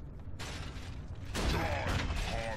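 A mechanical door grinds open in Gears of War 3, a creaking, ratcheting rumble that swells louder partway through, with no voices over it.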